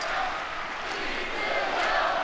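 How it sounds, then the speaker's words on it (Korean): A stadium crowd roars and cheers steadily for baseball player Lee Seung-yeop at his farewell, a dense, sustained wall of voices heard from within the stands. "지금 이 여러분들의 함성 소리 기억하겠습니다"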